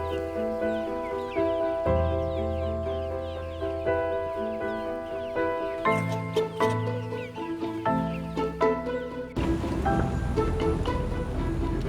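Heritage-cross chickens on open pasture cluck and call in overlapping bursts, several birds near and loud, with a steady outdoor wash of background noise behind them.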